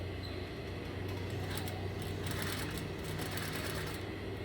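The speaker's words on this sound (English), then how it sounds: "So I'm gonna be sewing at that pressed line, using it as a guideline." A sewing machine stitches along the pressed line of a single welt pocket, a steady, close mechanical whir with a fast, even needle rhythm and no pauses.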